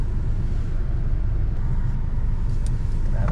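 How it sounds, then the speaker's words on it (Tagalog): Road traffic hums continuously, a loud low rumble of car engines and passing vehicles, steady throughout with no talking. "Traffic mga kaibigan."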